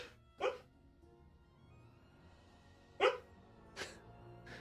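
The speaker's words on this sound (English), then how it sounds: "My dog is woofing in her sleep." A dog woofing softly in her sleep indoors: four muffled, breathy little barks spread apart with quiet gaps between, faint and close, with no talking.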